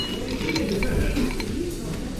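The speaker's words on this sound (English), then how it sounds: "This is ice cubes from the glacier lagoon." Clear glacier lagoon ice cubes clinking against a glass of Icelandic Reykja vodka, a few bright close clinks over low room murmur and muffled voices.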